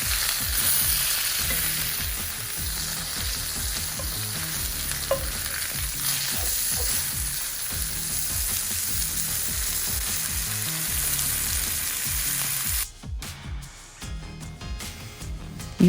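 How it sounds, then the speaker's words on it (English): New York strip steaks searing in a pan over a high flame give a loud, dense, continuous sizzle that drops to a softer, uneven crackle in the last few seconds. "I'm going to allow the steaks to cook 2 to 4 minutes on a high fire on each side."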